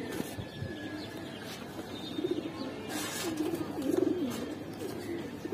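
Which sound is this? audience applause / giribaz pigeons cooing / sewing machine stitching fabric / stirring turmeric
giribaz pigeons cooing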